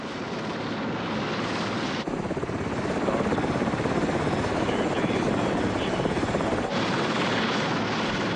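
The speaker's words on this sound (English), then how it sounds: "They are CHSS-2 Sea Kings, carrying a crew of four, powered by twin turbine engines." A CHSS-2 Sea King helicopter with twin turbine engines drones loudly and steadily, its rotor chop and turbine roar swelling slightly midway, close and unbroken.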